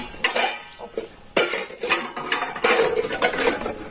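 Pots, dishes and cutlery clatter and clink in a household wash, with sharp irregular knocks and scrapes that build into a busy, steady rattle, near and fairly loud, with no speech.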